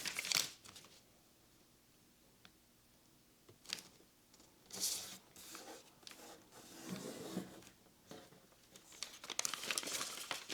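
Paper is folded and creased for an origami platypus, with intermittent crinkling and rustling bursts close by, separated by quiet pauses.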